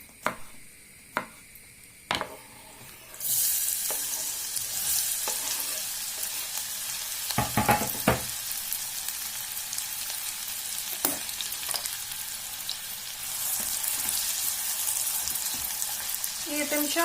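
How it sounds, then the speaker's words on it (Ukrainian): Onions sizzle and crackle in a hot pan, a steady frying hiss broken by a few sharp clinks of a utensil. "поки в мене тут підсмажується цибулька"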